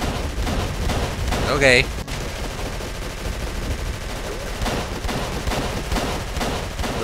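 Covering gunfire rattles through a tense shootout in the Call of Cthulhu video game, sustained and busy with a sharper burst midway, while voices speak over the action.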